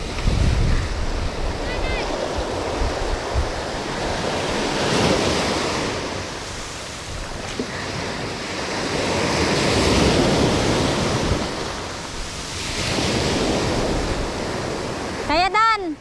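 Ocean waves break on a shore in slow, repeating surges that rise and fall every few seconds, with wind rushing over the microphone and a faint voice now and then.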